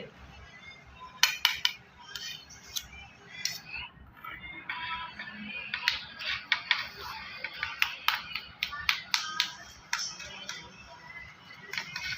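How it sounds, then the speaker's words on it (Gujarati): A spoon mixes yogurt raita ingredients in a bowl, giving a run of light clinks and soft scraping taps in irregular rhythm, close and moderately quiet. "બધી વસ્તુને આવી રીતે મિક્સ કરી દેવાની છે આપણે"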